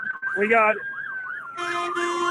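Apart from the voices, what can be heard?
ambulance sirens arriving at a protest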